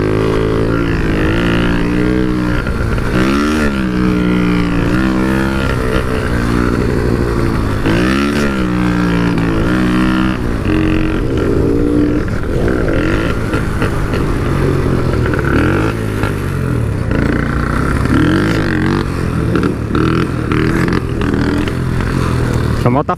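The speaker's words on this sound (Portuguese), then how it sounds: "A moto tá falhando, rapaziada" A Shineray 49cc motorcycle engine runs loud and close with an uneven, stuttering misfire, pitch wavering and revving irregularly, while voices talk over the engine noise.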